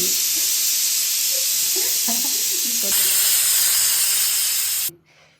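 Pressure cooker whistling while chicken biryani cooks, a loud continuous hissing steam blast lasting several seconds before cutting off abruptly, with faint speech at the start.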